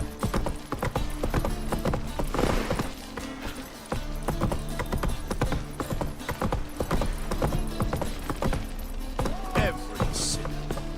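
Roach, a horse in the video game Witcher 3, trots and gallops in a quick, steady rhythm of hooves. The clip-clop stays close and busy throughout, and a brief whinny-like sound comes near the end.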